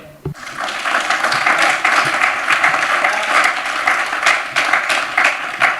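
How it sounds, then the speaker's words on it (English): Audience applause greets David Binder as he takes the stage at a festival talk, beginning after a short knock and swelling into steady, full clapping that continues throughout. "So a round of applause for David Binder."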